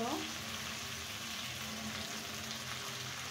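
Freshly washed, chopped greens drop into a hot pan and fry with a sharp initial hiss that settles into a steady, fairly quiet sizzle, no voices.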